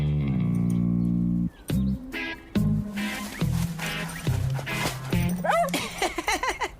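A cartoon dog whimpers and yips over a low droning tone, with short bursts and a rising squeal near the end, fairly close.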